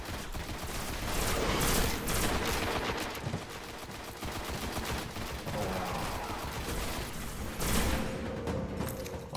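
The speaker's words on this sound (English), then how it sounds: "He's got some burst rifle or something." Burst rifle gunfire in the video game Destiny, rapid clustered shots in loud, sustained volleys, with heavy game effects filling the scene.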